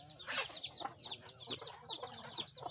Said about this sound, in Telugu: ఇవి వచ్చేసి నాటుకోళ్ళు అండి ఈ నాటుకోళ్ళు ప్రస్తుతంగా అయితే మీరు చూస్తుంది నాటుకోళ్ళు అండి